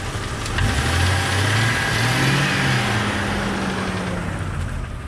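A Jeep engine running after a long crank, its idle rising into a light rev and settling back; a steady, close mechanical drone with a low rumble throughout, no talk.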